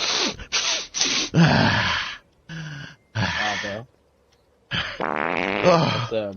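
Several short, sputtering fart sound effects burst out between excited exclamations and gasps, loud and close.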